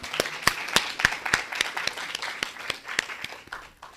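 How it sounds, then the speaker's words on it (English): A modest audience gives debate participants steady, fairly faint applause, with individual claps distinct and evenly spread across the whole span. "Let's give them a round of applause."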